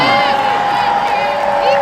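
A crowd cheers and whoops at a hockey fan event at Honda Center, a sustained, loud wash of voices lasting under two seconds with no clear break.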